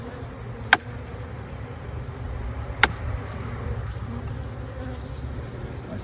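Honeybees hum in a thick, continuous drone around a hive being split, close up, broken by two sharp clicks or taps.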